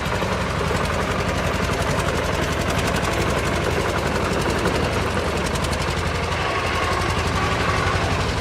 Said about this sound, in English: Tractor tires in snow?